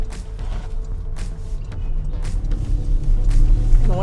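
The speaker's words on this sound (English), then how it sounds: "it's the exhaust of this car, the most expensive exhaust you can get on the Cayenne Coupe." Exhaust of a 2023 Porsche Cayenne Coupe E-Hybrid Platinum Edition fitted with its top sport exhaust, a steady low rumble while driving that builds louder toward the end, with faint speech-like sounds mixed in.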